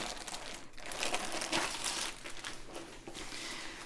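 Plastic bag or dust cover being handled, a quiet, close, irregular crinkling with several short bursts and rustles throughout.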